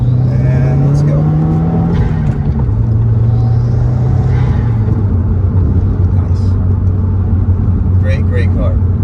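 A Subaru WRX with a manual gearbox pulls hard on a test drive, its engine note rising and dropping through gear changes as a steady rumble sits under someone talking from inside the cabin.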